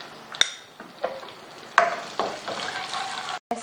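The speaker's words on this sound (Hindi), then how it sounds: "अब हम जो है ना 3 खाने के चम्मच ऑयल शामिल करके इसमें लहसुन जो है वो थोड़ा सा फ्राई करेंगे" Garlic frying in about three tablespoons of oil in a pan, a light steady sizzle with occasional sharp clinks of a spoon or utensil against the pan, close and alone without talk.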